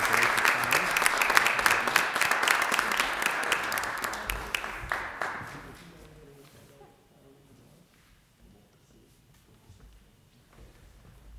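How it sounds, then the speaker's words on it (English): Audience applause at a school board meeting, a round of clapping that builds loud, then fades over several seconds into quiet room sound with faint talk. "we'll give Kylie a round of applause"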